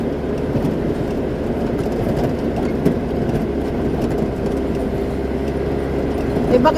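A car engine laboring during a beginner's driving lesson, a low rumbling drone that holds steady and close, with faint voices in the background.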